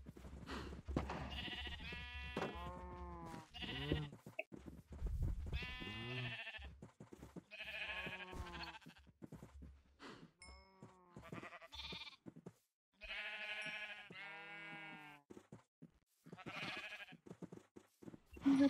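Sheep bleating in the Minecraft video game, several separate calls spaced out over the stretch, fairly near and clear against quiet background, with brief talk at the start.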